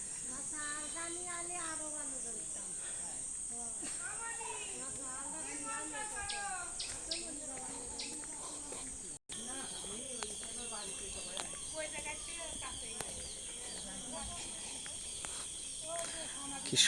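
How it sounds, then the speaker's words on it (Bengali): Birds call and chirp continuously in a quiet countryside setting among tall trees, with a dense layer of insect trilling underneath and occasional faint voices in the background. "নীরব, শুধু পাখির আওয়াজ"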